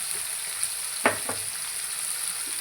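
Bitter gourd (karela) frying in a pan, a steady soft sizzle with two quick scraping stirs near the middle, close and moderately quiet, with no talking.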